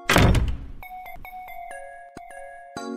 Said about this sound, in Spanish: La mamá de Paulo cierra la puerta.